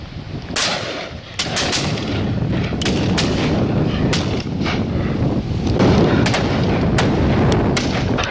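Shotguns fire on a partridge shoot outdoors, a series of loud, sharp reports spaced irregularly through the clip over a constant background of wind or rumble, with no talking.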